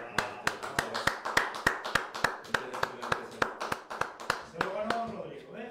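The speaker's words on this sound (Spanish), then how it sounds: "Un aplauso." In a studio, a small group claps in a sparse, regular rhythm of distinct sharp hand claps, close and clear, with a voice briefly heard near the end.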